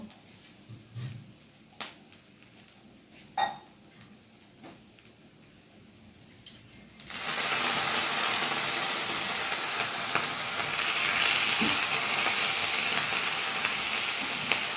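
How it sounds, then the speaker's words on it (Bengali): Saag being stirred in a dry pan gives soft scattered scrapes and clinks, then a splash of water bursts into a loud, continuous hissing sizzle that holds steady to the end. "শুকনো শুকনো আছে, আমি তাই একটু জলের ছিটে দিয়ে নেব।"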